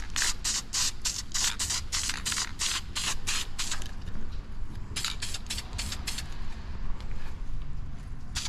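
Short hissing bursts of an aerosol spray can lay a light coat of paint on a 1981 Dodge D150 engine, in a rapid rhythmic series of close, sharp sprays with a brief pause midway.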